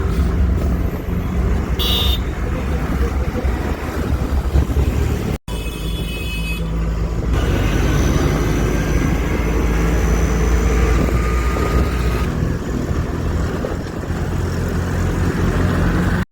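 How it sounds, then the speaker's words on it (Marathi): Engine of an auto rickshaw during a ride in Ambernath, a continuous low rumbling drone with road and wind noise that carries steadily for about sixteen seconds, close by and loud, with no speech. "चला मग आपण आता रिक्षामध्ये बसलेलो आहोत"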